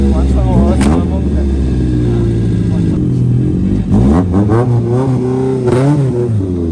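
A car drifting on a course, its engine revving loudly in repeated rising and falling surges with a strong low drone, mixed with speech throughout.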